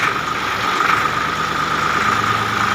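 A tractor engine idles steadily after starting, a loud continuous mid-to-low rumble with constant vibration and no pauses.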